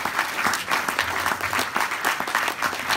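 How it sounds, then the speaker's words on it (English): A seminar audience claps steadily, a continuous wash of many hands at moderate loudness with no talk over it. "You may now all applaud"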